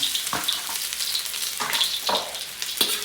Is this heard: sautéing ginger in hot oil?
yes